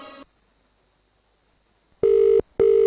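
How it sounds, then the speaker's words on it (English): A telephone rings with two loud, close electronic tone bursts after a short silence, each burst steady and sustained, with no voices over them. "Olumide, why you dey answer the phone now"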